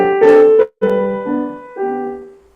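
Piano melody in short phrases, each one easing off and slowing at its end, with a few sustained notes separated by brief gaps, played close and alone without talking.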